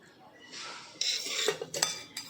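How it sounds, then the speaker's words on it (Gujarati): A metal spoon stirs a batter of rice flour and ghee in a bowl, making scraping swishes followed by several sharp clinks against the vessel's side, close and clear with no talk. "તેને આ રીતે મિક્સ કરી લઈશું"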